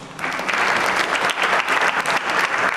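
Sustained audience applause at a Ghana CEO summit business conference, dense even clapping from a large crowd filling the whole clip without a break, loud and close with no talk over it.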